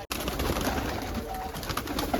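Pigeons cooing nearby, several soft, throaty calls overlapping against a busy background of rustling and movement.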